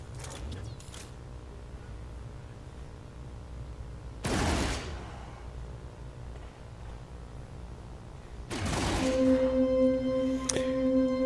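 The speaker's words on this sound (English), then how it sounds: "I had to fire twice, it didn't look like it was going to go far" Spaceship guns in No Man's Sky fire in two separate sharp blasts several seconds apart, each a brief loud burst over a low engine hum, with a steady electronic tone following the second.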